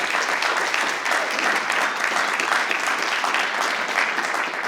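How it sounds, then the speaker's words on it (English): Sustained, dense applause from a school board meeting audience, steady and even throughout with no breaks, a full room clapping together. "Let's give him a round of applause"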